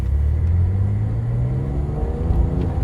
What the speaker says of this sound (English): Immediately, you hear the very iconic flat six Porsche engine note.